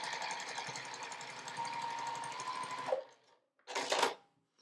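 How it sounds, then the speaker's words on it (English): A sewing machine runs a steady fast stitching burst through quilted watermelon wall-hanging fabric for about three seconds, stops, then gives one short second burst, close and clear with no talking. "So I'm going to sew this in place."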